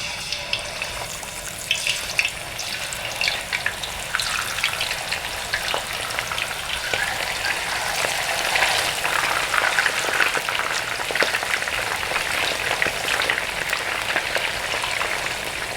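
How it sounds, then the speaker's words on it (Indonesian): Fish sizzles and spits as it fries in hot oil in a pan, a steady crackling hiss that grows busier and louder partway through, with no talking. "Sekarang ikannya saya goreng ya."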